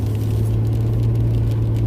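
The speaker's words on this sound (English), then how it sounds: "and it was raining, which you can probably hear it on the windshield right now" Rain falls steadily on a car windshield, heard from inside the vehicle as a dense, even patter over a low, continuous rumble, close to the glass and with no talking.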